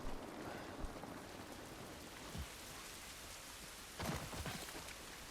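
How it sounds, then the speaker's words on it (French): Steady rain in the video game The Last of Us Part I hisses throughout, with a few louder patters and splashes standing out, and no voices. "Cette pluie ne va pas nous aider."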